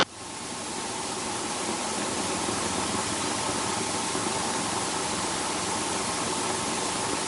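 Training helicopter engine with the throttle brought on in an open field on a calm day, a steady loud broadband roar and whine holding constant throughout, close by, no talk.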